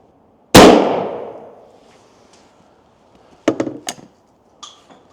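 A Henry .410 shotgun firing a Winchester Double X turkey load gives one sharp, loud outdoor blast with a trailing echo, followed by several fainter clanks and knocks.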